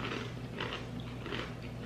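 Crunchy chewing of Flamin' Hot Nacho Doritos Flavor Shots chips, close and loud, with a few crisp bites in a steady rhythm over a low background hum and no talking.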